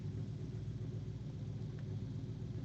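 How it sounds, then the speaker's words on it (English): A DeSoto engine idles steadily with a low, even rumble, fairly quiet and unbroken throughout, on a hot day with no other sounds. "That thing's been sitting here idling this whole time we've been talking."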